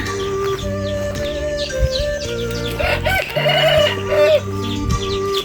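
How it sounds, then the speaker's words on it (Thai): Chickens and chicks cluck and crow nearby over a steady background of music or other sound. "นี่ไก่เหรอ ได้ยินเนาะ"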